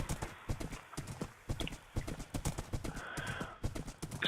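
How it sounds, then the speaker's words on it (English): Horse hooves in Minecraft clip-clop steadily at a brisk walking rhythm in a desert, close and clear, with a brief soft whinny-like sound partway through. "Yeah, this is a nice horse. I'm happy with this horse."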